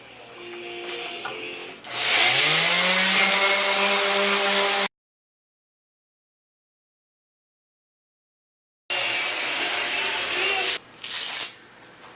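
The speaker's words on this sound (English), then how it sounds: "So I'm going to do a little bit of sanding" A power sander works on wood in two loud, steady bursts, a long run that spins up and a second run after a gap of silence, each a dense, close whirring grind with no one talking.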